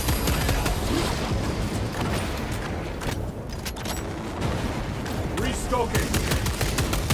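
Rapid bursts of video game gunfire crackle in quick succession, dense and continuous with brief lulls, while a voice speaks over the shooting.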